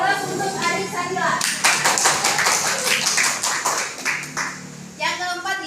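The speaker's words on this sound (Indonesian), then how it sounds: "Beri aplaus untuk adik Samila" A classroom audience of students bursts into applause for a classmate during a micro-teaching lesson, with several seconds of dense, close clapping framed by brief voices before and after.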